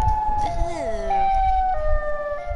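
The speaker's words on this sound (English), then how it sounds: "Siren Head is a giant siren" A wailing siren from Siren Head, the giant siren creature in a video game, sweeps through shifting tones and pitch bends, loud and sustained over a low rumbling background.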